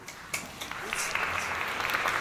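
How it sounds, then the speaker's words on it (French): A short burst of steady applause from a small group, clapping briskly for a couple of seconds. "merci, on peut s'applaudir, bravo."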